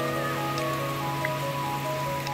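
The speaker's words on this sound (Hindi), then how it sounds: "ये देखिए बारिश की शुरुआत" Steady rain falls in a continuous, even hiss at moderate volume, with a faint low hum running underneath and no clear voices.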